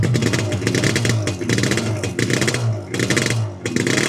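A cold 1982 Yamaha RD350LC two-stroke motorcycle engine idles close by with a steady, rapid, raspy burble and slight rises in pace, barely revved.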